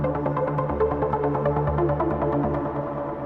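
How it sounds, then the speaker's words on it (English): A Spire synth lead layer with a lot of reverb plays alone, a warm, sustained pulsing tone with rhythmic note changes, slightly darker and washier than a dry lead. "and then the Spire layer is this one."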